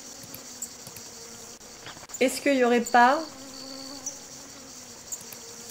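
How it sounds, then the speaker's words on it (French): A steady, thin, high whine of mosquitoes in the video game Forestia hums throughout at low volume, with a person talking briefly over it in the middle. "Ah, les moustiques!"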